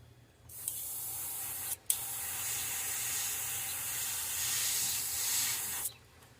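An airbrush sprays paint onto a swimbait fishing lure in a steady, fine hiss, stopping briefly once and then continuing before cutting off.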